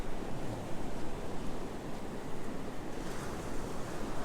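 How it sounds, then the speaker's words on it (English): Steady rush of waves breaking on Surfside Beach near Myrtle Beach, a full continuous roar with slight rises and falls, no one speaking. "get a little closer to the water and hopefully it won't creep on me and we can get those ocean sounds"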